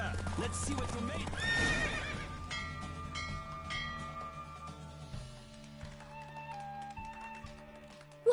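A horse in The Witcher 3 neighs loudly near the start, then its hooves clop as the race winds down under a game score, with voices talking over it.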